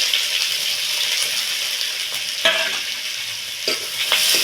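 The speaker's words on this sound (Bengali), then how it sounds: "পেঁয়াজগুলো একটু ভাজা ভাজা হয়ে যাবে" Mustard oil sizzles steadily as chopped onion fries with cumin, a constant bright hiss broken by a few clinks of a spoon stirring the pan.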